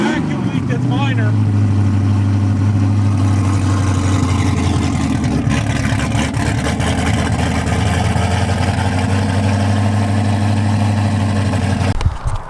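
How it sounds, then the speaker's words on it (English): A drag car engine idling a little low after fresh heads were installed, a loud steady low rumble running nearly continuously, then cutting off abruptly at the end. "Idling a little low."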